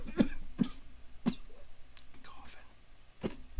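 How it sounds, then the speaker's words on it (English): A person coughs four times in short, dry bursts at close range, with faint breathy sounds and soft background noise between them. "Coughing."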